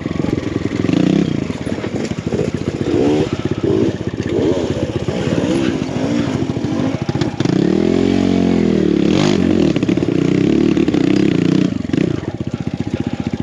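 A BBR KLX170RF dirt bike engine drones loudly and continuously on an evening enduro ride, revving up and dropping back with rattling clatter and wind buffeting close to the rider.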